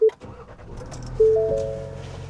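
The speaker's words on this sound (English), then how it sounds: "So we're gonna start this up." A 2026 Ford Ranger with the 2.3L engine started with an actual key: a quick click, then the starter cranks briefly and the engine catches into a steady close idle hum.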